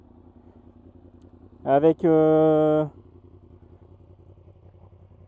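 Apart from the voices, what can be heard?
Yamaha MT-10 motorcycle starting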